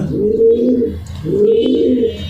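Racer pigeons coo up close, two loud, rounded throaty coos in a row with a short pause between them.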